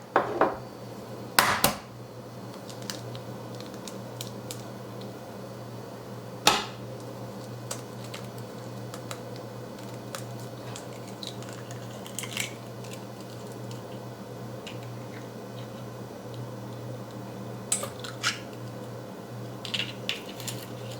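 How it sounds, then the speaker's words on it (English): A kitchen egg being cracked and separated for homemade candied pecans: a few sharp taps and clicks near the start and again mid-clip, then soft shell and handling noises over a quiet room hum, with no talking. "the first thing I'm going to do is separate my egg"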